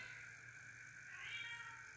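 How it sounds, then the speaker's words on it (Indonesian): A house cat gives one faint, drawn-out meow in a quiet room, soft and somewhat distant over low background hiss. "aduh kucing gua."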